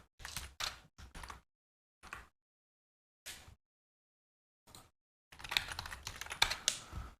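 Bursts of typing on a computer keyboard while a ChatGPT prompt is entered, short clattering runs separated by pauses, then a denser, louder stretch of rapid keystrokes near the end; no talking.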